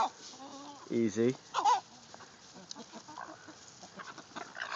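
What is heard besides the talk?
chickens clucking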